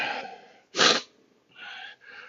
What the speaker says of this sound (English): Got a little bit of sniffles.